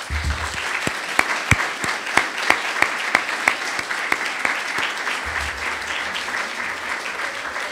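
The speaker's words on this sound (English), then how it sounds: "One more round of applause, please." Audience applause at the 2019 Roy London Humanitarian Awards ceremony, a sustained wash of clapping from a crowd for the full length, fairly loud, with sharper individual claps standing out early on and no talk over it.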